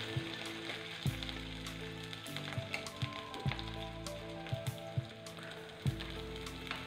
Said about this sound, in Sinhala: දැන් මේ ටික තෙලේ ටිකක් තෙම්පරාදු කරගන්නවා.